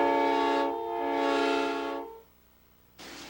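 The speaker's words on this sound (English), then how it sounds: "You have to have a set, you got it, off of a locomotive." A big rig semi-truck fitted with locomotive air horns, heard at drag racing nationals in Bristol, Tennessee: two loud, sustained chord blasts with a brief dip between them, then a pause and a short final burst.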